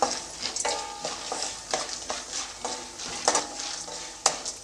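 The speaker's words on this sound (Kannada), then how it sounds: "ಎರಡನ್ನು ಚೆನ್ನಾಗಿ ಸ್ವಲ್ಪ ಫ್ರೈ ಮಾಡ್ಕೊಳ್ತೀನಿ" Chana dal and peanuts frying in a pan for homemade puliyogare powder, a soft sizzle with rhythmic scraping and clinks of a spoon stirring against the metal, no talking.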